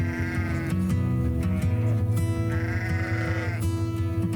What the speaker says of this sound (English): Now there's actually more sheep grazing there.